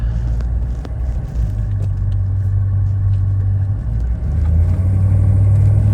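A 1984 GMC Suburban K2500 with a Detroit diesel engine drives along, heard from inside as a loud, steady low rumble that rises slightly toward the end, with no talking.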